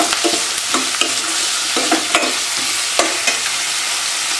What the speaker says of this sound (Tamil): இந்த வெங்காயம் வந்து எண்ணெயிலேயே நல்லா இப்படி நல்லா வதங்கிடணும்